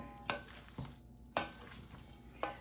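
Hot drained potatoes are stirred into a potato salad in a bowl, giving four soft, evenly spaced scraping knocks of a spoon, close but quiet.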